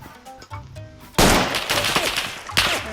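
A sudden loud burst of rapid Roblox gunfire follows a quieter stretch, with repeated sharp shots continuing to the end.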